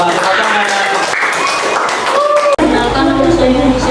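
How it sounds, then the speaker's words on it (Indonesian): An audience claps together at a university event in Batusangkar, a steady wash of applause lasting several seconds, with voices and other sounds mixed in underneath. "Ya, sama-sama tepuk tangan."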